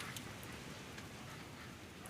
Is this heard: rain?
yes